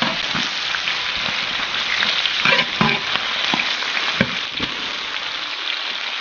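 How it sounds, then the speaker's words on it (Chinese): Garlic and green pepper sizzle and crackle as they are stir-fried in a large wok in a rural Guizhou kitchen, a steady close hiss broken by a few sharp scrapes of the spatula. "放点这个青椒，先把这个蒜头放上去炒一下"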